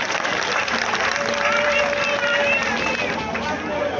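Crowd clapping and cheering at a political party rally in Kono District, Sierra Leone: dense, continuous applause mixed with crowd noise and babble, loud and sustained throughout.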